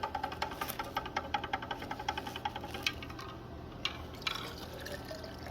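Wastewater effluent, 250 ml, is poured into a total suspended solids filter setup. Quick rhythmic glugging and trickling liquid sounds come at a steady pace over a low hum, fading into irregular drips near the end.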